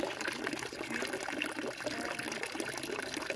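Water pours steadily into an empty bottle for drinking, a continuous gushing, splashing fill from a tap at close range with no talking.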